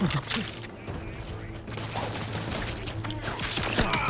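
Rapid gunfire from a sci-fi shooter video game, dense bursts of shots and mechanical clatter running continuously, with a player's voice faintly underneath.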